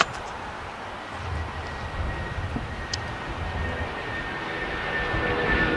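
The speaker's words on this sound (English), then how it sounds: "777 over there. Yep. Our 777 British Airways call sign Speedbird." A British Airways Boeing 777 jet airliner at LAX, its engine rumble faint and distant, swelling gradually into a soft broad roar over the whole stretch.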